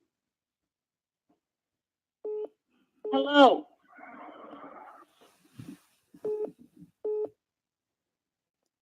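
Telephone line tones on a malfunctioning call: short beeping tones, a warbling tone burst, then a noisy crackle and more repeated beeps, with a brief spoken greeting in between.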